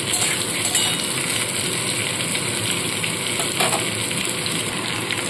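Potatoes frying in oil with salt and turmeric, a dense steady hiss and crackle close up, continuous and even with no voices.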